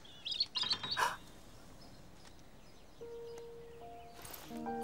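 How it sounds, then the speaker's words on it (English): A robin chirps in a few quick bright bursts early on, close and fairly clear, then falls quiet as soft outdoor ambience and faint tones carry on. "That's a robin, JoJo."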